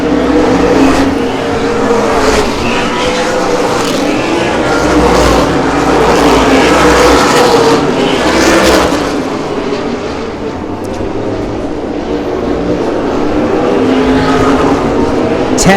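Modified race cars roar down the back straightaway on the 2024 opening night, a loud, continuous engine drone that swells and fades as the pack passes, with a commentator calling the race over it.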